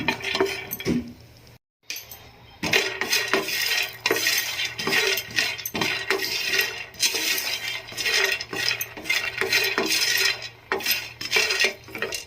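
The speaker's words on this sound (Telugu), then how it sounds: "తామర గింజలను పూల్ మకాని అంటాం కదా వేసుకొని మంచిగా ఫ్రై చేసుకోవాలి" Lotus seeds (phool makhana) being stirred as they fry in a pan, with quick rattling clicks and scraping of a utensil over a soft sizzle, repeated in uneven bursts after a brief pause.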